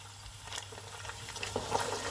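Onions and garlic frying in a pot, a faint close sizzle with light popping and bubbling that grows slightly busier toward the end.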